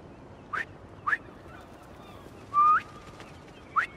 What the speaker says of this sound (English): Try a whistle.